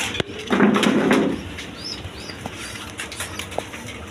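Pigeons kept for sale flap their wings in a loud flurry near the start, followed by quieter scattered wingbeats and soft rustling.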